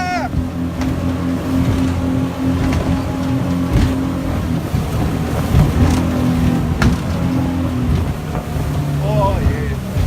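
A boat motor drones steadily at sea in two-meter swells, a loud continuous hum with wind buffeting the microphone and occasional voices over it.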